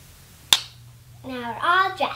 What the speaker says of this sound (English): Try clapping again.